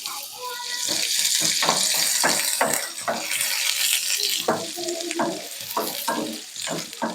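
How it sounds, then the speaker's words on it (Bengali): Onion frying in oil in a wok, a close, bright sizzle broken by repeated stirring scrapes in an irregular rhythm. "পেঁয়াজ টমেটো দুটোকে ভালো করে নেড়ে চেড়ে ভেজে নেব"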